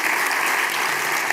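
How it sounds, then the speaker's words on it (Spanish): Audience applause at the ENAES 2026 conference in a large hall, a dense, steady wash of clapping that runs at full strength through the whole moment with no voices over it. "Un fuerte aplauso, por favor, para Matías Menichetti."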